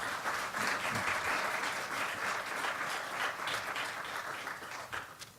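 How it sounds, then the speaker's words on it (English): Steady, full audience applause for two panelists at the close of an industrial hemp summit panel on regulations, continuous and fairly distant-sounding, tapering off slightly toward the end. "a round of applause for these two"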